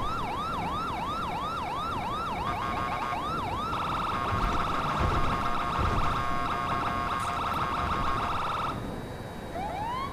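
Police siren in the video game GTA V roleplay: a loud, continuous electronic wail that switches to a rapid yelp pattern midway, then returns to wailing, close and without talk.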